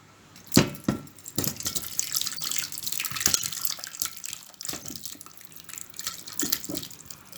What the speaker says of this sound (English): let's pour this into the pot